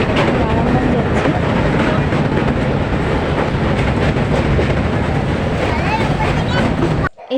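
A local train bound for Balurghat rumbles along in a loud, continuous roar with wind buffeting and faint rhythmic clatter, heard from on board and cutting off abruptly at the end.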